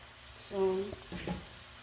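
Pork lomi noodles being stirred in a pan, a brief soft scraping and sizzle that a short vocal sound briefly overlaps.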